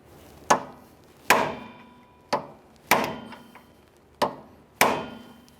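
Six sharp metallic hammer blows strike a punch, staking an axle nut into its slot on a 2007-2013 Acura MDX rear wheel hub, each crack ringing briefly, evenly spaced and close.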